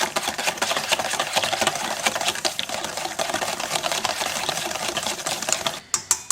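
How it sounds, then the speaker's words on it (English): Carbonara sauce whisked in a pan with a wire whisk: rapid, busy metallic clicking and scraping goes on close and continuous, then stops abruptly with a few separate taps at the end. "Keep whisking over."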